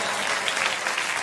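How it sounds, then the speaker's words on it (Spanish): A short burst of steady applause on a Spanish FM radio show, dense and even throughout, with no voices over it. "un aplauso fuerte para todos los oyentes, sea de redes, sea de radio"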